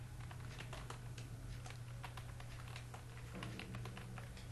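Rapid, faint clatter of computer keyboard typing while writing PHP code, irregular bursts of keystrokes over a low steady hum.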